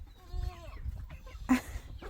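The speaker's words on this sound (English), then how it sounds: "That rooster right there is one of the ones that we hatched, and he's huge." A large young rooster in a backyard chicken flock in Mexico gives a few short calls and clucks early on, over steady low background noise, with a sharper burst of sound about midway.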